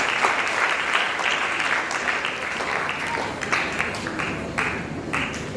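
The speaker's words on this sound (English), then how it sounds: "Please can we clap for all of our panelists again?" Students at an antibullying school assembly clap for the panelists, a lively, continuous spread of many hands applauding in a large hall, with a few sharper claps popping out.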